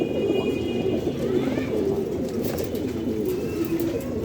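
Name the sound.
Damascene red checker pigeons cooing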